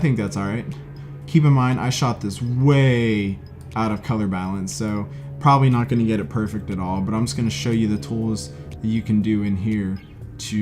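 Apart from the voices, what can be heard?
None of the usual background noises is heard.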